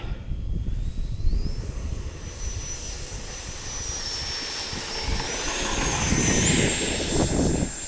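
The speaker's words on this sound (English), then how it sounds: "we're gonna fly the F18 Super Hornet" An FMS F18 Super Hornet RC jet taxis at an outdoor flying field, its electric ducted-fan whine holding steady and rising in pitch toward the end, with broadband wind and outdoor noise underneath.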